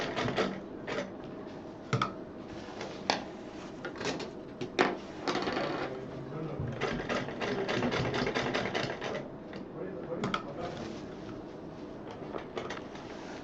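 Sewing machine stitching a purse, with bursts of rapid mechanical clatter broken by pauses and sharp clicks and knocks as the fabric is repositioned, close and fairly loud, no talk.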